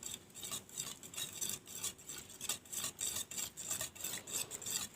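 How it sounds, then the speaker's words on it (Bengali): A hand whisk beats egg, sugar and milk powder in a bowl, making close, rhythmic scraping strokes at a quick even pace, with no talking. "এখন আমি এটাকে হ্যান্ড উইস্কের মাধ্যমে সুন্দর করে মিশিয়ে নিব।"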